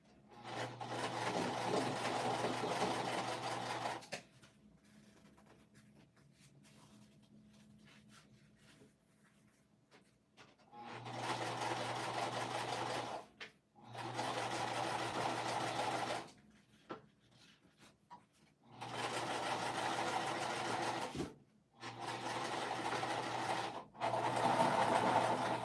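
Sewing machine stitching thick vinyl for a bag, running in several bursts of steady rapid whirring and clatter lasting a few seconds each, separated by quiet pauses, close and clear with no speech.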